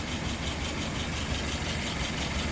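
A car engine idles at about 640 rpm, a steady low rumble with a faint even vibration that holds at a constant moderate level, close by and without voices.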